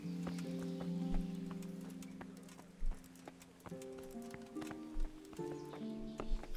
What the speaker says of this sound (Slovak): A tu sú kone.